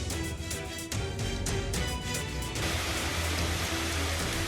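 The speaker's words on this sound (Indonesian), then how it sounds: "pasca hujan es yang terjadi secara tiba-tiba" A sudden hailstorm in Majalengka, West Java, comes through as a dense, steady drumming patter of falling ice and rain on surfaces, loud and continuous throughout.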